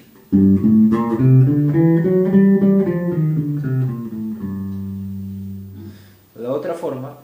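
An electric bass plays a minor scale, climbing in the melodic minor and coming back down in the natural minor, as a run of clear, sustained, stepwise notes, followed by a few spoken words at the end.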